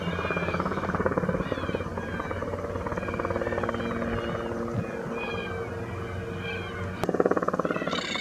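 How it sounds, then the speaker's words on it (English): A helicopter hovers low to chase black cockatoos off a crop, giving a steady, close droning hum that runs throughout. Scattered animal calls rise over it, and there is a brief louder bump near the end. "every time the helicopter was up doing its job"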